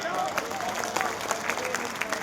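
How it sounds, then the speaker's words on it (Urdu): Audience at a mushaira poetry gathering in Bengaluru, Karnataka, breaking into steady, dense applause that fills the room, a continuous wash of clapping with crowd murmur and no pauses. "کوٹاری صاحب کے لیے پرزور انداز کا تالیاں بجائیے۔"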